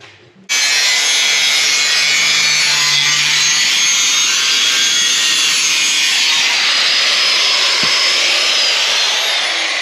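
Loud, steady hand sawing through wood starts abruptly and continues without a break, a harsh rasping grind close by.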